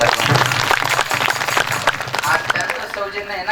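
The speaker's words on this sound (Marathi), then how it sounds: "त्यांच्यासाठी एकदा जोरदार टाळ्या" Strong applause from a crowd at a Marathi kirtan gathering, dense and continuous clapping filling the hall for several seconds, with voices mixed in beneath it.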